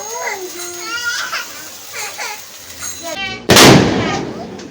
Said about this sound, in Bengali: তো দেখো এখন বাজি ফোটানো হচ্ছে, ছেলেমেয়েরা সব বাজি ফোটাচ্ছে।